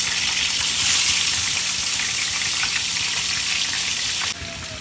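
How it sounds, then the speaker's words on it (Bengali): Prawns fry in hot oil for a mustard-poppy prawn dish, a loud, dense, continuous sizzle close by that drops off abruptly near the end, with no voices. "প্রনগুলো কিন্তু বেশ সুন্দর ভাজা হচ্ছে, তবে খুব কড়া করে ভাজবো না"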